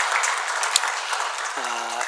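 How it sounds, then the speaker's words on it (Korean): A church congregation applauds in encouragement during a Korean worship service, steady dense clapping filling the room for about a second and a half before a voice begins speaking over it at the end. "사랑합니다 하는 마음으로 격려의 박수 드리겠습니다."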